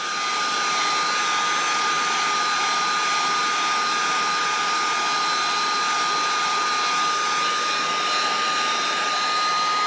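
A heat tool blows hot air to soften resin, giving a loud, constant whooshing fan drone with a steady whine that holds unchanged throughout.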